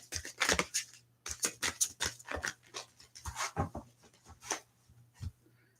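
Tarot cards shuffled by hand during a reading: repeated crisp riffling and slapping bursts in quick, uneven succession, close and fairly soft, with no talking.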